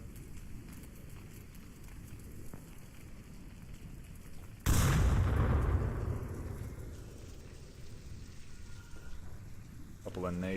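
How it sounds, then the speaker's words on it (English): A grenade blast in the VR shooter Onward, during a competitive match between Danglers and SMC Tactical: one sudden loud explosion midway, then a long rumbling decay under a commentator's steady talk. "Couple of nades getting tossed out into some standard positions"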